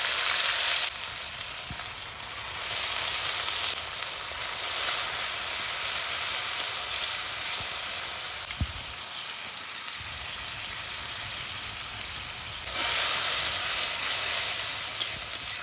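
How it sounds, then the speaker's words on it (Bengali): Spices with bay leaf, panch phoron, green chilli, tomato, ginger and chilli paste fry in a pan for a vegetarian curry, a steady close sizzle and hiss that swells and eases as the mixture is stirred. "তো এই যে মশলা কষানো হয়ে গেছে"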